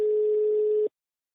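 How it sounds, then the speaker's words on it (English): A single ringback tone heard while placing a call to a foreign phone line, one steady electronic beep just under a second long, then silence. "We get that somewhat exciting foreign ringtone"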